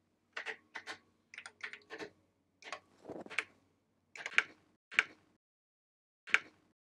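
Keys on a computer keyboard are typed in short quick bursts and single taps, close and quiet, with brief pauses between groups.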